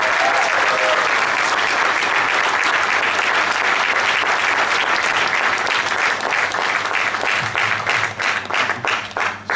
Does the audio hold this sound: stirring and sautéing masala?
no